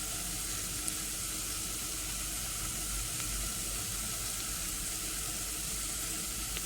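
Steady sizzling of frying in a pan while making South Indian radish curry, a constant soft hiss with no talk over it.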